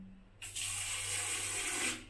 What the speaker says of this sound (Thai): น้ำไหลแรงไหม